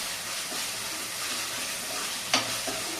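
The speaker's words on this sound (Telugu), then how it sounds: "అల్లం వెల్లుల్లి పచ్చివాసన అనేది పోయే వరకు వేయించుకోవాలి." Ginger and garlic frying in a pan while being stirred, a steady close sizzle with soft scraping strokes and one sharp clink of the utensil near the end.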